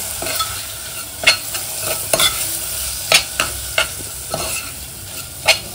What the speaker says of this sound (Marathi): आणि गरम मसाला पावडर मिक्स करून घेऊया आता.